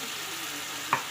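A ground paste of ginger, cumin and green chilli hits a hot pan and sizzles steadily with a dense, even hiss, followed by a couple of quick scraping clinks near the end, up close.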